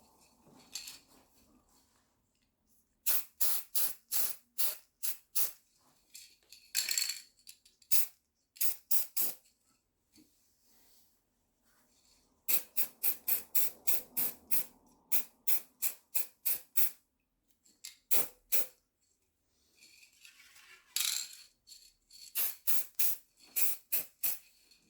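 Aerosol spray paint going onto a bird cage candle holder comes in quick runs of short, sharp hissing bursts, several clusters in a row separated by pauses of near silence.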